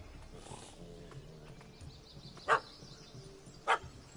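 Dog barking at a cat up a tree in The Witcher 3 video game: two sharp, loud barks spaced about a second apart over quiet outdoor game ambience.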